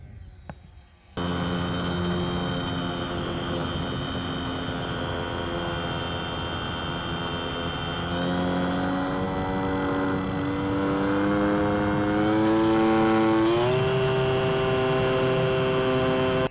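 An electric Sig Kadet RC model airplane on a 4S battery flies under throttle. Its motor gives a steady, continuous buzzing whine whose pitch climbs toward the end as the power comes up.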